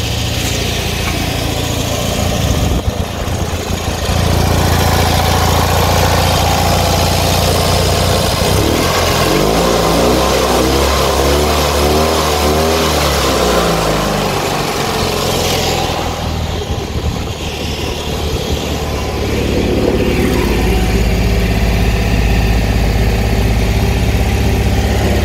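A small engine runs loud and steady after a carburetor repair, still on choke. Its note swells and rises as the throttle is revved, then settles back, continuous and close throughout.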